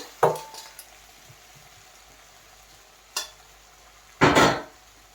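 Quiet background hiss broken by a few bursts of scraping and sizzling as vegetables for aviyal are stirred in a pan, the last one longest and loudest.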